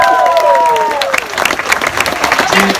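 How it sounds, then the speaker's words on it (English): Audience at a movie premiere in Vancouver breaking into loud, close applause and cheering, a dense burst of clapping after a sustained tone fades. "A big round of applause."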